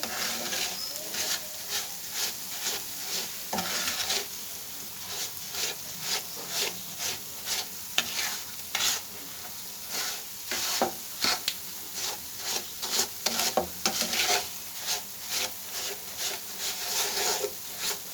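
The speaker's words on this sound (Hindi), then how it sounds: "इसे हल्की आंच पे हम तब तक भूनेंगे जब तक इसका कलर चेंज हो जाए।" Sabudana (sago pearls) dry-roasting on a low flame while a spoon stirs steadily through the pan, giving a soft scraping and rubbing texture with repeated short clicks of the spoon against the pan.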